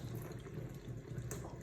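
Steady rush of water from a kitchen tap as cucumbers are rinsed under it, a continuous close, even splashing that holds without a break.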